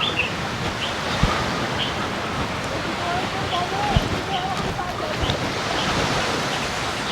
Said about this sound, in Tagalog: Mukhang maalon yung dagat.